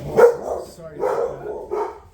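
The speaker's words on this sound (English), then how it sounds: "There's a attack out there of dogs in the neighborhood that must be dealt with." Dogs barking in the neighborhood, three loud, close barks spaced out over a couple of seconds, with no talking over them.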